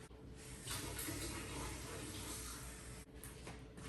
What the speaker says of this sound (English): Let me put some water in here.